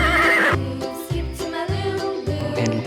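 An animal toy plays a loud, close recorded horse neigh, a long whinny with a rhythmic pulsing pattern that repeats several times, heard alone without talk.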